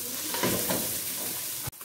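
Strips of bacon sizzle steadily in a pan as their fat renders out for a caldo verde, a dense, even hiss with a few soft stirring scrapes before it cuts off abruptly near the end.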